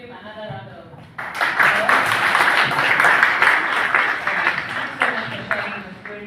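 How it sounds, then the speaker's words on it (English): At a child protection conference in Juba, soft voices are heard briefly before a room full of people breaks into dense, lively applause that holds steady and then slowly eases off. "Please give him another round of applause."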